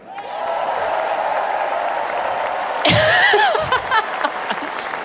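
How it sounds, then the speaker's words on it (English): A crowd at the Democratic National Convention cheers and applauds steadily, with a sharper burst of whoops and shouts near the end. "Not as enthusiastic of a cheer"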